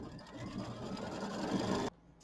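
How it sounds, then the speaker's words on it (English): A sewing machine stitches the quilting on a Kimberbell mini quilt, giving a steady, close whirring drone that runs for almost two seconds and then stops abruptly. "I'm going to go ahead and get the quilting started"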